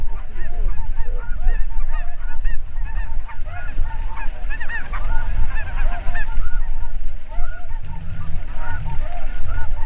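A large flock of wild snow geese honks loudly and continuously in a spring field, a dense overlapping chorus of calls that fills the whole stretch.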